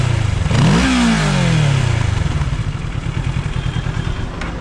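A Kawasaki 650 motorcycle engine starts up and revs, rising in pitch then dropping back into a loud, throbbing idle with a steady pulsing beat, close by.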